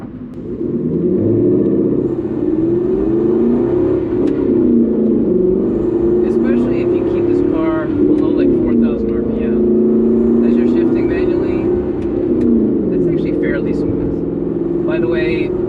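An Aston Martin Vantage with SportShift II transmission revs its engine through downshifts, a loud sustained engine drone with rising and falling pitch and exhaust crackle running steadily throughout, while someone talks over it.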